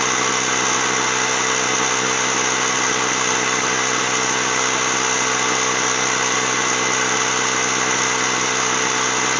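A Ryobi ONE+ 18V cordless mini compressor runs steadily while it inflates a flat car tire that has a slow leak. It gives a continuous, loud motor drone and buzz with no pauses, and no one speaks.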